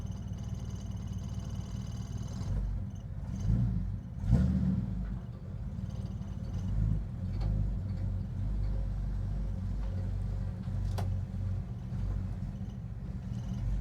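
A crew cab Charger idling as it is shifted into drive, a low, steady engine rumble with a small surge and clunk partway through, running on alone without talk.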